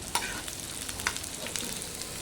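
Onions, green chillies and curry leaves hit hot oil in a pan, giving a loud, steady close-up sizzle with a few sharp crackles and no talking.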